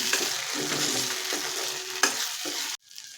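Ground masala paste sizzles and is stirred in a pan for a sprouted moth bean curry, with steady frying hiss and a few scraping strokes of a spoon before it cuts off near the end.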